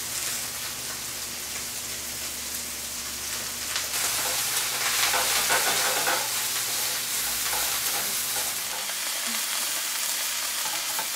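Lamb's quarters greens sizzle and wilt in a hot pan with sausage, a steady broadband crackling hiss throughout that swells louder partway through, close and continuous with no talking.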